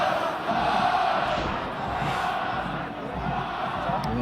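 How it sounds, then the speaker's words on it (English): Connacht rugby supporters cheering and roaring their team on during a European Challenge Cup semi-final against Toulon, a steady distant crowd din that swells and dips without pause. "You see that crowd, that Connacht crowd, trying to drive and inspire their team forward."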